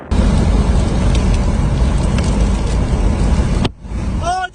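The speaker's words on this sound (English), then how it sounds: "Huge hailstones. Incredible tornado," Heavy hail and wind hammering a vehicle during a tornado, a dense loud roaring clatter that drops out suddenly, followed by quieter rumbling and whistling tones.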